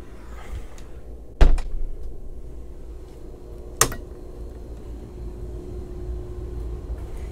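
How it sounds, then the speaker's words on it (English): The door to the day head on a 2018 Sea Ray 510 Sundancer yacht opens with two sharp knocks, a double clack and then a single latch click, set against a quiet cabin hum. "Here's that door to the dayhead."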